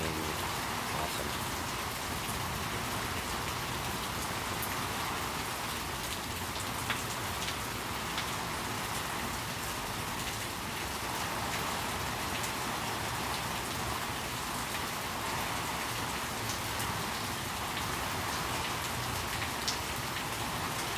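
Steady rain pours on a surface, a dense continuous hiss with scattered drops tapping, unbroken throughout.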